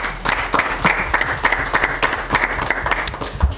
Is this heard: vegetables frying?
no